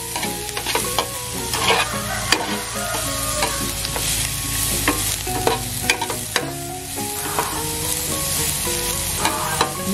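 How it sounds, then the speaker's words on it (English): Garlic and ginger sizzle steadily in a pan for a Filipino ginataang gulay, with frequent scraping and clattering strokes of a utensil stirring throughout, close and fairly loud, no voices. "And then I will put the garlic and the ginger. I will keep sauteing."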